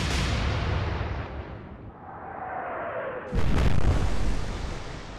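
Battleship main guns fire in the naval game Atlantic Fleet, a loud broadband blast that rumbles, fades through a whistling shell flight, then a second heavy boom lands near the end.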